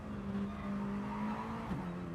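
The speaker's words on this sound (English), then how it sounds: "Hard on the brakes again." A Mini Cooper race car in a video game braking hard into a hairpin at Dragon Trail, engine note held steady then dipping, with a brief tire squeal near the end, moderately loud and steady without talk.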